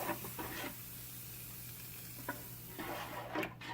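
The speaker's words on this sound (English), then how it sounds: "we're dissolving over 10 pounds of sugar into the juice" Sugar being stirred into grape juice in a pot over fairly high heat for homemade grape jelly, heard as a steady close sizzle with soft scraping strokes and a few louder stirring bursts.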